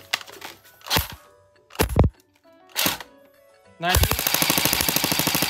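A Krytac P90 airsoft electric gun fires on full auto in a fast, loud, even burst during the last second and a half, following a few sharp handling clicks and a brief spoken word.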